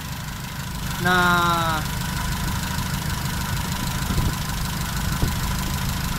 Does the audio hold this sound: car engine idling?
yes